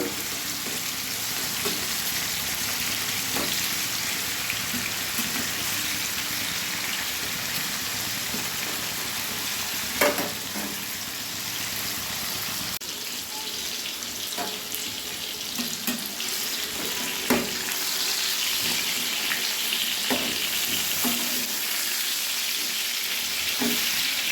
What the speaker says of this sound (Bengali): কুমড়োগুলো ভাজতে দিয়েছি, এবার একটু উল্টিয়ে দেব।